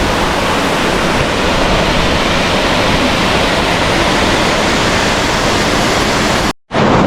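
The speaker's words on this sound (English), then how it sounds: "That's a nice waterfall." A steady, loud rush of cascading water pours from a waterfall in Da Lat, Vietnam, holding constant until a sudden brief dropout near the end.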